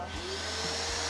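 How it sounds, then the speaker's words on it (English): A vacuum cleaner runs in another room of an apartment in Ho Chi Minh City, giving a steady, muffled mechanical hum that holds for about a second with no voices. "someone's got a Hoover going."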